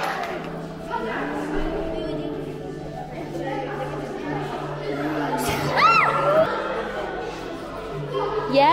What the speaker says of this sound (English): Can we give Ilias a lovely big round of applause?